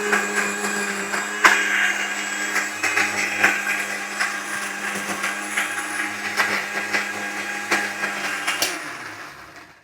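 A kitchen mixer grinder blends watermelon for a two-ingredient ice cream, its motor whirring in a steady, close drone with small bumps, then tailing off at the end; no one speaks.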